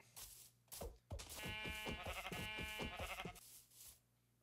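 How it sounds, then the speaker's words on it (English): Sheep bleating in the Minecraft video game: a long, loud, wavering bleat with a buzzy, harmonic tone, preceded by a couple of short bursts and standing alone with no talk. "Sheep!"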